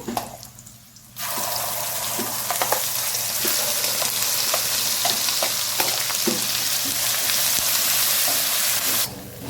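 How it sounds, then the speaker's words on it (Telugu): Masala paste for mushroom curry, made with ginger, chilli, turmeric and a little water, frying in hot oil with a loud, steady sizzle that starts abruptly and holds for several seconds with occasional stirring clicks, then cuts off. "చూడండి కాస్త వేగింది కదా మసాలా"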